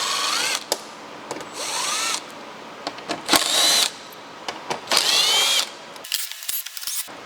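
A power driver spins out 7mm head screws from a Corvette C8 Stingray rear panel in several short whirring bursts, each rising in pitch, separated by brief clicks and pauses, close and loud.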